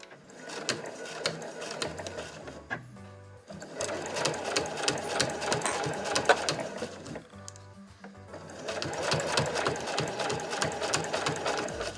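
A home sewing machine stitches a nubi quilted tote bag in three long runs of rapid, steady mechanical clatter, separated by short pauses with light handling noise.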